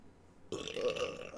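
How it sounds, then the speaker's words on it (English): Someone lets out a single burp partway through, fairly close and moderately loud, a rough, gurgling belch after a quiet lead-in with no talking. "I burp a lot."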